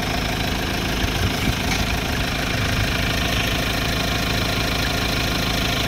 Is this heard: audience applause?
no